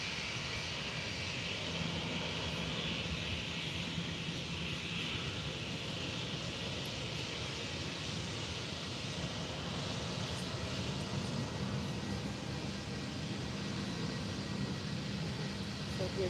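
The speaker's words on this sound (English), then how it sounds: "Boeing 757s, the United one, right now." A United Boeing 757 airliner at Faro Airport sends out a steady, continuous engine roar that holds at an even level, with a voice speaking under the noise.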